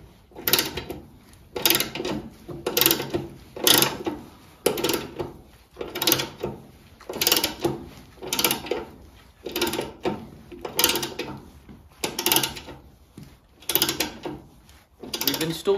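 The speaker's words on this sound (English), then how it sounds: "we're just using a ratchet to try and speed up the process a little bit" A hand ratchet clicks in steady, regular bursts, roughly one per second, while steering bushings go onto the front axle of a Motostandard 1010; the sound is close and uninterrupted by speech.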